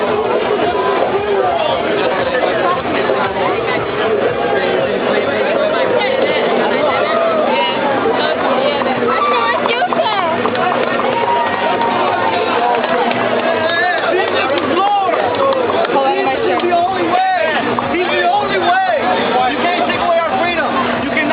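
A dense, loud crowd at an outdoor Arab Festival in Dearborn shouts and clamors nonstop around an arrest, with overlapping voices, babble and scuffling close by throughout.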